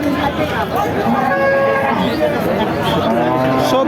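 A cow lows at the Barobazar cattle market among local and crossbred cattle, one drawn-out moo rising over loud crowd chatter and people talking nearby.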